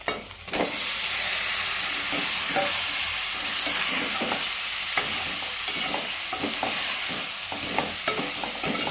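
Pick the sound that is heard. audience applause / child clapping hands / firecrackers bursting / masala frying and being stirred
masala frying and being stirred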